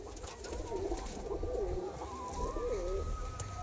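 Domestic pigeons of large size and bright colouring coo in soft repeated rolling phrases, fairly close, over steady low background rumble.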